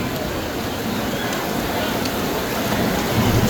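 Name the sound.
heavy rain falling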